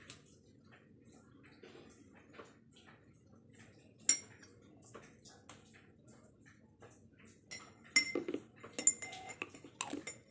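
A spoon stirring honey into blue pea flower water for a lime blue tea gives sparse, light metallic clinks against a glass, which become quicker and denser clusters of tinkling taps toward the end, close and fairly quiet.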